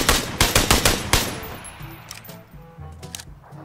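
Single-shot gunfire in the video game PUBG, a quick run of sharp, evenly spaced shots that then fade into a quieter tail of game sounds.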